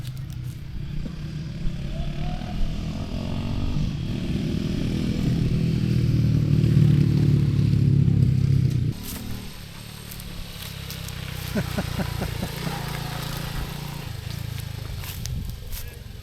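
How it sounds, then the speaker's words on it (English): Postie motorcycles ride past along a road near the Kirrama Range: a low engine drone swells over several seconds to a loud peak near the listener, then cuts off, leaving quieter ambience and light clatter. "Come the postie bikes."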